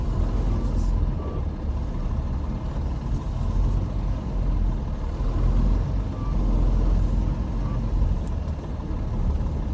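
A semi truck reverses toward a gate on a cold Minnesota day, its steady low engine rumble filling the scene with faint intermittent beeps on top and some background voice.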